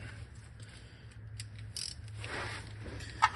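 Ratchet wrench snugging the oil drain plug back in under a 2023 Lexus GX460, faint quick clicking in short runs over a low hum, fairly quiet, no talk.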